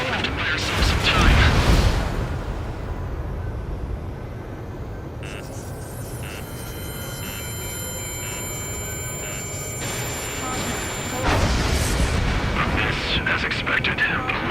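A railgun energy weapon fires during an aerial battle in the combat flight game Ace Combat 7, giving heavy booming blasts over a constant roar of jet engines, while radio chatter and electronic tones play.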